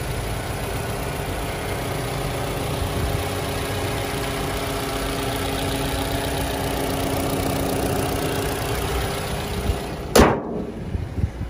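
A 2016 Toyota RAV4 GX AWD engine idles with a steady low hum, then a sharp bang near the end, like a hood slamming shut.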